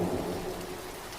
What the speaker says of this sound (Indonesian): Di perjalanan menuju perkemahan, hujan semakin lebat.